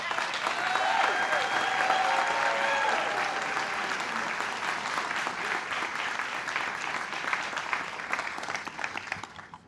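Audience at an evening city Pride illumination event in Columbus applauding steadily as Director Casey comes to the podium, a full burst of clapping from a sizeable crowd that slowly fades toward the end.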